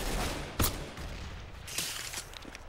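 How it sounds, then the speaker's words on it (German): Gunfire in Counter-Strike: GO rings out in a close firefight, with a sharp loud shot, then a second burst over a steady noisy background of more distant shooting. "Wird hier voll beschossen"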